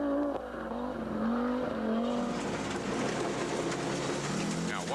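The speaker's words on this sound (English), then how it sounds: "You can hear that turbo chirping, huh?" A rally car on a forestry road approaches and passes with a rising engine whine and a gravelly rush of tires. The sound is fairly distant and moderate in level, with faint high turbo chirps mixed in.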